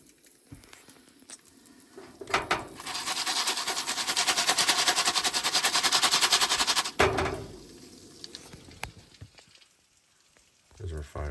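Crackling campfire at a truck campsite, a dense run of crackles and pops building loud in the middle and then fading, with a voice briefly in the background.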